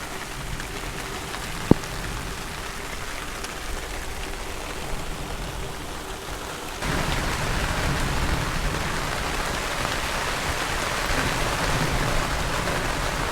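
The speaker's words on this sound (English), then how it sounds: "Thundering and all sorts." Steady rain pours down through a thunderstorm, with a sharp crack near two seconds and a rushing downpour that grows heavier and louder about halfway through, no voices present.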